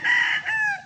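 Game farm rooster, a red line straight-comb stag, crowing once up close, a short loud two-part call with no other sound around it.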